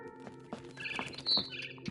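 A barn swallow chirps outside a window in the video game What Remains of Edith Finch, a string of quick, bright tweets and twittering calls, fairly close and clear against a quiet background.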